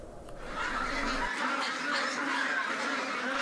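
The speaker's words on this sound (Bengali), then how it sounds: "শ্বেত শুভ্র এই হাঁসগুলো পেকিং জাতের, বাজারে বেইজিং হাঁস নামেও পরিচিত।" White Peking ducks on a farm, a dense continuous chorus of many quacks and honks close by, steady and loud throughout.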